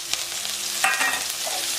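Coriander and curry leaves hit hot oil in a frying pan, giving a steady broadband sizzle with a brief louder crackling burst near the middle, no voices present.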